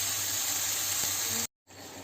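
Water poured into a hot cooking pan hisses and steams in a steady, close sizzle, cut off briefly by a short silence before resuming more quietly, with no talking.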